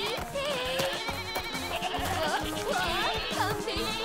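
Goats bleating in an animated Barbie cartoon, several wavering cries over a bouncy background score.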